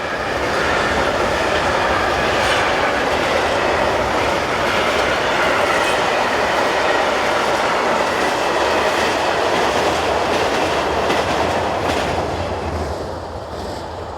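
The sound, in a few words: mixed freight train passing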